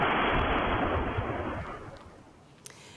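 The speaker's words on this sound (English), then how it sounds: "That is a look at the explosion caught on security camera in the city of Belgorod." A bomb dropped by a Russian warplane explodes in the city of Belgorod, captured by a security camera: a loud, broad blast roar that fills the opening seconds and slowly fades into a rumbling tail with a small crack near the end.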